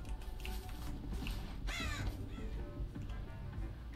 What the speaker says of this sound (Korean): 까마귀들을 날아가게 해서 살인마에게 생존자의 위치를 노출시킬 수도 있습니다